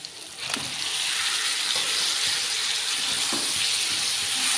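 Chicken pieces go into masala frying in a pan, producing a loud hissing sizzle that swells after the first half second and holds steady, broken by a few faint utensil clicks, close and without speech.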